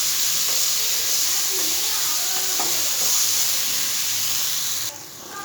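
Pointed gourd seed paste sautéing in a hot pan, a loud continuous sizzle and hiss with occasional scraping stirs, close up and steady before easing slightly at the end.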